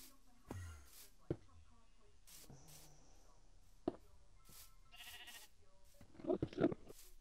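Sheep bleat in scattered, fairly faint calls among soft farmyard clatter and thumps, with a sharper burst of noise near the end.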